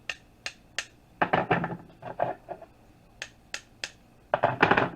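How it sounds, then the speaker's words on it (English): Metal pieces struck together in short bursts, sharp clinks and rattling hits close up, with brief quiet gaps between groups. "if you get you a nice sized piece of metal and you whack them on there"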